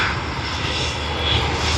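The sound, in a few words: airplane engine at Sydney Airport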